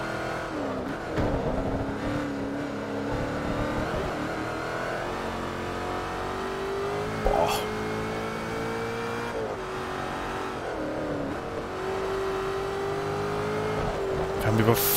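A Ford GT racing in Forza Motorsport 3 on the Nordschleife, its engine droning steadily with shifts in pitch throughout, a brief sharp blip midway, and someone talking over it the whole time.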